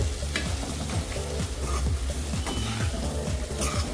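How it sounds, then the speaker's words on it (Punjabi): Potatoes roasting with spices in a hot pan, being stirred with a steady loud sizzle and repeated scraping strokes of the spoon, close up and alone. "ਆਲੂ ਜਿਹੜੇ ਮਸਾਲੇ ਦੇ ਨਾਲ ਪੱਕ ਜਾਣਗੇ 3-4 ਮਿੰਟ ਵਾਸਤੇ ਆਲੂਆਂ ਨੂੰ ਨਾਲ ਹੀ ਅਸੀਂ ਭੁੰਨਾਂਗੇ"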